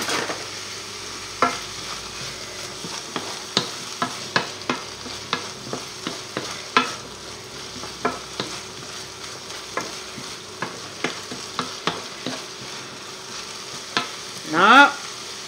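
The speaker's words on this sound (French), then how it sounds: "Ensuite, on ajoute nos pommes de terre." Potatoes fry in a pan, a low steady sizzle punctuated by regular, evenly spaced scrapes of a spatula stirring them, ending with a short louder rattle; no one speaks.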